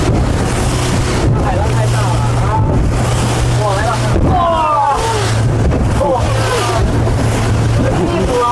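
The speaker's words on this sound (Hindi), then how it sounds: "अचानक से लहरें बहुत तेज़ हो गई हैं समुंदर की" Loud rushing water and wind as rough sea waves hit a small motorboat off Penang National Park, Malaysia, with the engine droning underneath and people talking over it.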